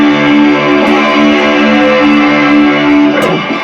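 An electric guitar sounds through a TC Electronic shimmer reverb pedal, a loud sustained chord blooming into a washy, shimmering tail that rings on continuously.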